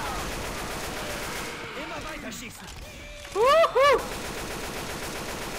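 Rapid, continuous automatic gunfire rattles in Left 4 Dead 2, running steadily under a player's excited shout.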